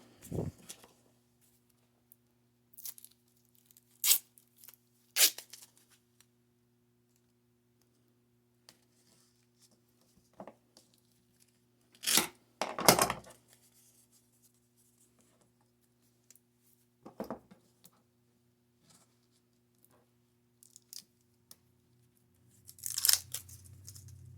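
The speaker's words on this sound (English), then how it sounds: "And you just tape that on." Tape torn from the roll and pressed onto a homemade foam boffer axe, sparse sharp rips and crinkles separated by quiet pauses, heard up close over a low steady hum.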